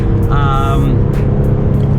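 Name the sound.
Maserati Ghibli engine with Ferrari-built engine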